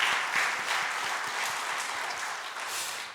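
A church congregation claps for the women's choir at a Sunday praise service, a dense, sustained round of applause from a crowd in a large hall, steady and even with no speech over it.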